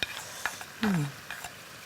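Soft sizzling and stirring from a pan of boiling sauce as pork and root vegetables go in, with faint scrapes, a brief louder burst partway through, and a quiet voice.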